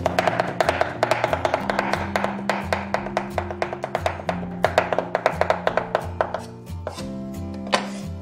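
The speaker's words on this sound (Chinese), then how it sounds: "然后再给它剁成肉末。" Rapid, repeated cleaver chops on a board, loud and close, mincing pork foreleg in steady rhythmic bursts with a low hum of background music.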